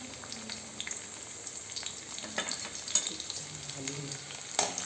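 Cumin seeds and garlic sizzle in hot oil on a gas flame while making pithla, a soft steady frying hiss with occasional crackles and stirring scrapes, close and fairly quiet.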